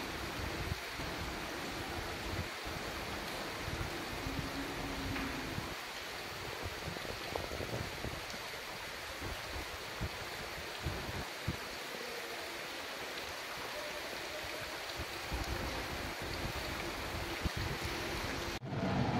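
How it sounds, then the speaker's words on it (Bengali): Heavy rain pours outside as a dense, continuous broadband roar that holds steady for the whole stretch, with occasional soft knocks and no voices. "এত জোরে বৃষ্টি পড়ছে যে ওইদিকে কি আছে কিছু দেখা যাচ্ছে না, শুধু বৃষ্টি আর বৃষ্টি"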